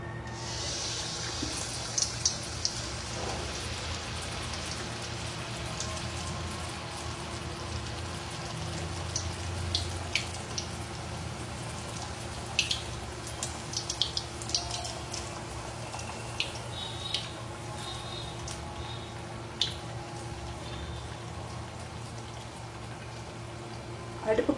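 Paniyaram batter is poured into hot oil in a pan, giving a steady sizzle and crackle with scattered pops throughout, under occasional quiet talk.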